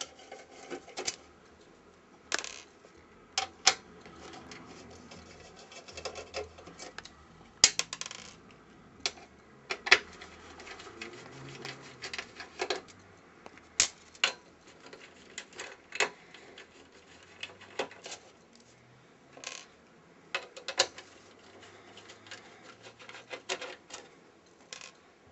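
Screws holding an Xbox 360 heatsink are loosened one after another, giving faint, sparse metallic clicks and scrapes spread irregularly over quiet background.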